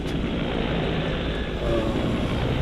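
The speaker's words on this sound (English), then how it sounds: "You hear that, man? It's a helicopter." Helicopter flying overhead, a steady broadband rotor and engine rumble that stays loud and even throughout with no talk.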